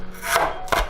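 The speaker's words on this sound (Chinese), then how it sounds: "再切点姜丝" Knife slicing ginger into shreds on a cutting board, two close, crisp cutting strokes in quick succession, with no voices.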